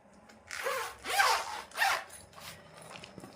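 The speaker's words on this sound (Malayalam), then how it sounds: "ഇതില് സിബ് ഉണ്ട്." A zipper on a document file with a dark brown back is pulled open in a few quick rasping strokes, close and clear with no talking.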